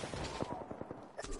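Rapid gunfire in a PS4 shooter rattles in a fast, steady string of shots, quiet and somewhat muffled under a dense bed of game noise.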